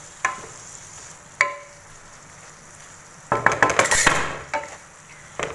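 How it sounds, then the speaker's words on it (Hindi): Diced medium potato stirred in a pan: a few sharp scrapes and clinks of a utensil against the pan, then a louder burst of stirring and sizzling, close and without talk. "इसको इसमें अच्छी तरह मिक्स करेंगे और इसको पकने देंगे"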